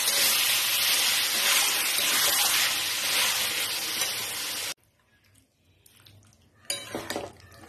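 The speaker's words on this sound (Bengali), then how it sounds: "এই চিকেন পিসগুলোকে ভেজে রাখা, এগুলো দিয়ে সামান্য করে একটু কষিয়ে নিচ্ছি" Boneless chicken pieces sauté in hot oil for chicken kosha, giving a loud, steady hiss that cuts off abruptly. A quieter stretch follows, with light utensil clinks and a brief return of sizzling.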